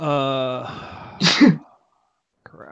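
A sneeze bursts out sharply at mid-clip, just after a voice speaks and followed by a short breathy tail, with a brief murmur of talk near the end, during a tabletop roleplaying game session.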